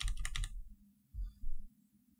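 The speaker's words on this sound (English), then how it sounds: "I'm going to type in volume" Quick run of keystrokes on a computer keyboard, clicking close and clear for about half a second before dropping to a quiet low hum with a few soft bumps.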